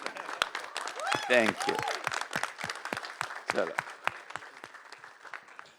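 Audience applause at a film trailer launch for the film Shikara: scattered, sparse claps that swell briefly, with a person speaking over them and whistle-like tones in the middle.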